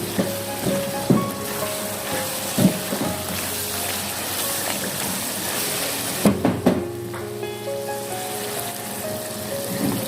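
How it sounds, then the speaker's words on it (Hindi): Chicken ginger masala sizzles and fries steadily in a pan, a loud continuous crackle with a few scraping stir strokes and clinks near the start and middle, no voices. "बस सिर्फ 2 से 3 मिनट में इसको और अच्छे से फ्राई करूँगी"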